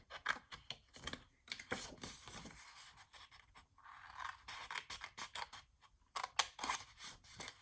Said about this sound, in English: we're gonna go ahead and cut out those 4 little squares right here